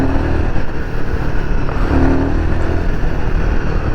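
Royal Enfield Himalayan 450 motorcycle accelerating hard in performance mode, a loud, steady engine roar with continuous rumble and wind noise throughout, no talk.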